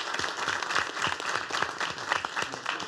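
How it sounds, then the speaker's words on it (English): A round of applause at a county commissioners' meeting, steady dense clapping from a room of people for about three seconds, moderately loud and continuous with no talk. "That's a round of applause."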